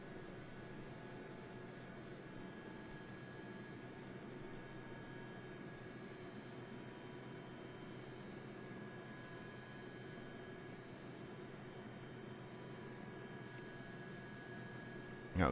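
A helicopter engine in a flight simulator game drones as a steady, faint whine with a low rumble underneath, unchanging for the whole stretch, with no voices over it.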